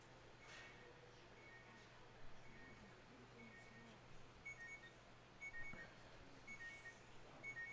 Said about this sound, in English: it sounds like an alarm or something went off on somebody's phone here